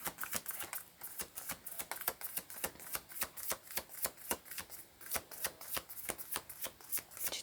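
Tarot cards shuffled continuously by hand, a fast steady ripple of crisp riffling bursts repeating close to the microphone, with no talking.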